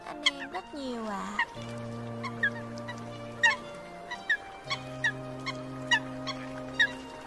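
Recorded hunting call of the Eurasian coot: a series of sharp, short bird calls repeating at a steady rhythm over a sustained droning tone, fairly clear and close.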